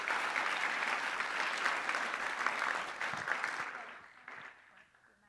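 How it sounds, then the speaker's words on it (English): An audience gives a big round of applause for contestants at a Mr. CCH 2022 event: sustained loud clapping that gradually thins and fades toward the end. "One more big round of applause for all of our contestants and all the help here tonight."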